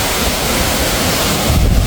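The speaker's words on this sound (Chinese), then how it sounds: "到处都是瀑布" Waterfalls pour through a canyon gorge in the primeval forest mountains on the Chongqing–Guizhou border, making a loud, steady broadband roar that fills the scene without pause and with no voices.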